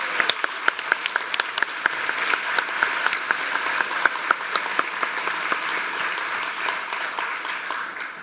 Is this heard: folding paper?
no